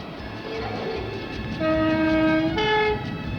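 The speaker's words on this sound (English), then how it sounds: "these speedy trains provide the world's fastest regular diesel service" A British Rail diesel high-speed train sounds its horn in sustained two-tone blasts over a steady rolling rumble, growing louder toward the end with no talking.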